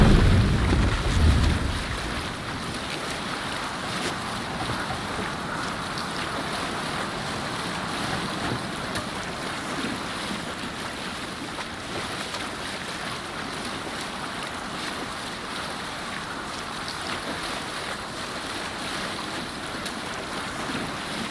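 Ocean waves surge and wind rushes around a sailing ship at sea in the video game Assassin's Creed Valhalla, a steady washing roar that opens with a brief louder burst and carries no voices.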